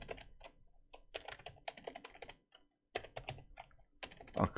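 Rapid keyboard typing of HTML code comes in close, crisp bursts of clicking keystrokes, broken by a brief pause and a louder final flurry, with no voice over it.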